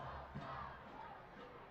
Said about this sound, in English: Crowd trying to get behind FC Tulsa here at One Oak Field.